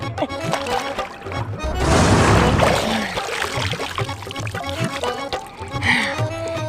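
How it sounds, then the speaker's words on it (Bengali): A person ducking under river water in a village setting, with a loud, dense splash and churning water lasting a couple of seconds in the middle, then smaller splashes and drips, with voices and background activity around it. "আমি আর একটু ডুব দেই।"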